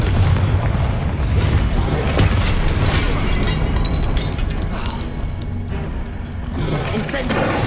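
Confringo explosive spell blasts in Hogwarts Legacy, a dense roaring rumble of booms and bursts filling the whole stretch, loud and continuous with faint voices mixed underneath.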